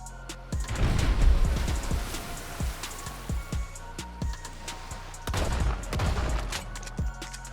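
In a video game, rapid bursts of gunfire crack and thud over a rumbling background, bullets splashing into water in dense volleys, pausing briefly before another heavy barrage.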